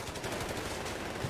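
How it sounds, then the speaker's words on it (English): Rapid rip of an MG42 machine gun in Company of Heroes 3, sustained dense bursts of gunfire under the steady din of battle, fairly loud and continuous through the moment. "I can actually hear the rip of the MG42 there in amongst the sound"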